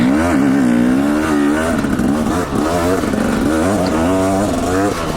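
A dirt bike motorcycle rides through the rocky Central Utah desert in December, its engine loud and close, with a continuous revving drone that rises and falls as the throttle changes.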